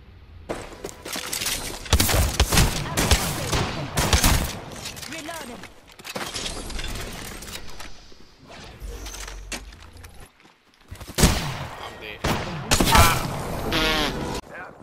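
Video game gunfire, dense bursts of rapid shots and crackling impacts in several volleys with short lulls between them, loud and close, with a voice talking at times.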